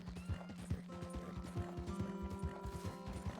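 Horse hooves clip-clop steadily in Red Dead Redemption 2, a quick even rhythm of close, crisp strikes running throughout with faint ambient tones behind and no talk over it.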